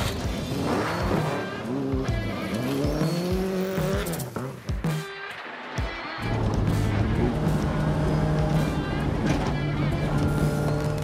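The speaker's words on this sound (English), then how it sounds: "that 4-cylinder boxer engine was rebuilt with a compact Garrett turbo" A turbocharged four-cylinder boxer rally car with a compact Garrett turbo and Hoosier off-road tyres races in a ForzaRC video game event. Its engine drones and rises and falls in pitch through shifts, with commentary running over it.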